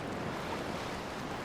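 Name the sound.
salt water waves while swimming, from video game Horizon Forbidden West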